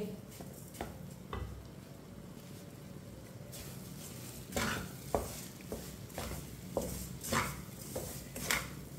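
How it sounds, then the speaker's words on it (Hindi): Sugar being stirred into egg and semolina halwa in a pan, with repeated scraping strokes and spoon clinks against the metal over a soft sizzle, growing busier and louder in the second half. "आधी प्याली चीनी डाल लेंगे। मिक्स कर लेंगे।"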